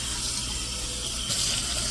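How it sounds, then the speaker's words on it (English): Tap water runs steadily into a greasy pan being rinsed in a kitchen sink, a continuous close hiss and splash that swells slightly toward the end, with no talking. "When I go to rinse it, instead of it going down my drain, put the water in it."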